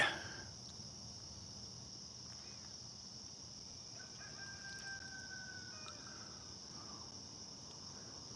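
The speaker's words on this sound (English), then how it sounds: "I hear the roosters." A distant rooster crows faintly over a steady chorus of insects and crickets in a quiet outdoor setting.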